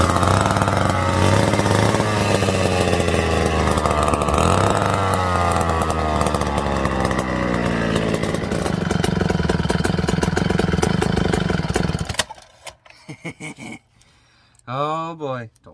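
McCulloch Super 250 chainsaw, its gas tank newly repaired, running loud and close with a steady high buzzing roar for about twelve seconds, then cutting out, followed by a brief revving burst near the end.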